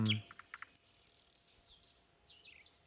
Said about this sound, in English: let's get the birds in the mix